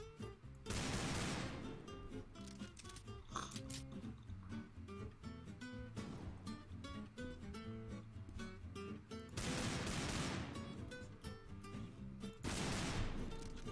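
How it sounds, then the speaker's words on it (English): Bursts of gunfire from the video game CS:GO erupt several times over a dense layer of continuous game music, each burst loud and lasting about a second. "He's already shooting at me."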